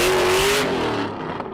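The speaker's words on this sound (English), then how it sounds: "Just listen to this thing roar." A Ford GT's supercharged 5.4-liter V8 roars loudly up close in a short rising burst, then fades quickly as the car pulls away.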